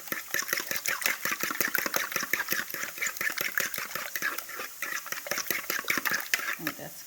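Scrambled eggs are stirred in a pan with rapid, regular scraping and clinking strokes, close and fairly loud, continuing without pause.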